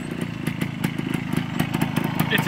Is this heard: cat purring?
no